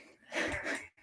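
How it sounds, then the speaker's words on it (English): A sleeping goose gives a single breathy, wheezing snore close by, a soft rasping breath lasting under a second before a brief pause. "he's snoring"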